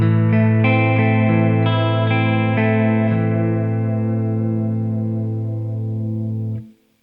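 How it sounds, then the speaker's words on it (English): Clean electric guitar through an Aqueous chorus pedal with the mix near 11 o'clock, a sustained chord with a few changes and a gentle warble, ringing out alone before cutting off near the end. "That's subtle and just a little bit warbly."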